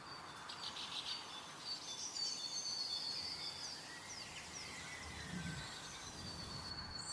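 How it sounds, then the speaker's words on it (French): Birds singing on a calm mountaintop, thin high chirps and warbling phrases drifting over soft background hiss, fairly faint and distant, with no voices. "Écoute les oiseaux chanter."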